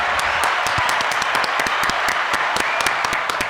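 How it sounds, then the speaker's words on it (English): Enthusiastic clapping from a small studio audience on a podcast set, dense and close with distinct sharp individual claps throughout, continuing steadily for several seconds with no talk over it. "Round of applause."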